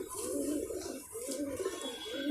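Soft rolling coos from a Sialkoti pigeon with pearl markings, repeated in a steady rhythm of low throaty phrases, close and fairly quiet, with no talking.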